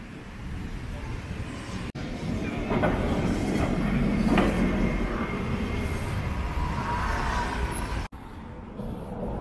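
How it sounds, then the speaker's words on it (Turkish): An old tram rolls through Lisbon with a steady rumbling, rattling roar of wheels on rails, loud and continuous for several seconds, broken by two brief sharp clicks. "Burada eski bir tramvay varmış."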